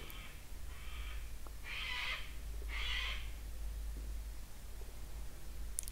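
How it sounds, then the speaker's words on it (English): Cockatoos screech in the distance outdoors, four harsh raspy calls in a row over a low steady hum. "Some cockatoos there in the background."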